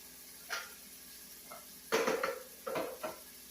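Canned corn dumped onto black beans in a colander at home, a few sharp clanks and rattling metal knocks in scattered bursts, then a wet splashy clatter of draining.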